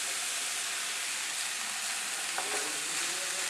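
Fried rice with dark soy sauce and tomato ketchup is stirred in a hot pan, giving a loud continuous sizzle with a faint scrape late on.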